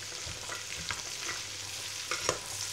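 Pumpkin pieces sautéed in a pan for pumpkin soup: a low, steady frying hiss with soft scattered crackles and occasional stirring knocks, fairly quiet throughout.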